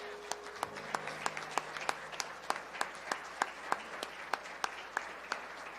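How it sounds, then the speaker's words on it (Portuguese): A church congregation applauds in sparse, rhythmic claps, each clap distinct and fairly close, keeping an even steady beat with a faint voice in the background. "Aplauda o Senhor Jesus."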